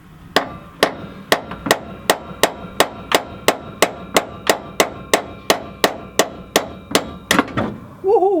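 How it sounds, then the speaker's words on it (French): Hammer blows ring out on metal during removal of a car engine, likely a K24, about twenty sharp evenly spaced strikes at a steady rhythm, loud and close, ending in a quick cluster of hits. "ça vaut mieux crisser un coup de marteau"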